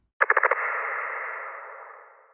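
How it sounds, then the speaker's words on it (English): A stretched-out bass loop, warped in Ableton, opens with a quick stutter of four or five short hits, then smears into a long, smooth, fading tone. "it's a bass loop sound that's like super stretched out"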